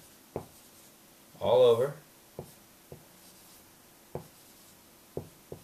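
A pen scratches across paper in short separate strokes, several brief taps and scrapes spaced apart under a nearby speaking voice.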